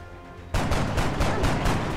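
A sudden loud burst of rapid automatic gunfire from the video game XCOM: Enemy Within starts partway in and keeps going as a steady, dense stream of shots.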